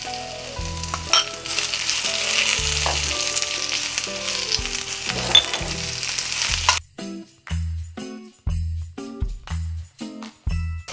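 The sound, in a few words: ridge gourd peel sautéing in oil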